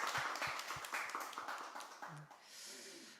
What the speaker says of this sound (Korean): 우리 그 하나님 앞에 좀 감사의 박수 드렸으면 좋겠어요.